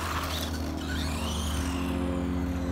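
A Dromida SC4.18 RC short course truck drives nearby, its small electric motor giving a steady, continuous whine with low hum throughout, no voices over it.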